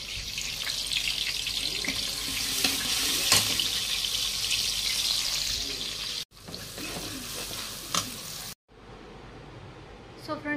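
Tap water runs into a kitchen sink while a pile of dishes is washed, making a continuous splashing rush with clinks, broken by two brief cuts.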